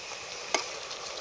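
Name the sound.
beef frying in a pan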